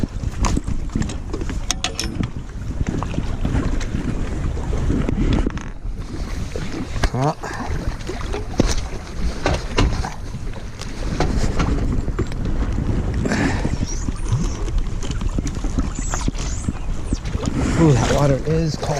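Sea-Doo RXDI personal watercraft from 2001 running across cold water, a steady engine drone mixed with splashing and heavy wind buffeting the microphone throughout, with occasional voices underneath.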